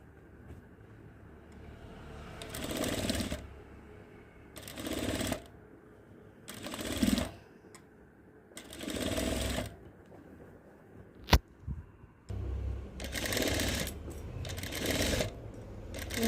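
A sewing machine stitches a small frock in repeated bursts of fast mechanical whirring, each lasting about a second, separated by quiet pauses, with a sharp click partway through.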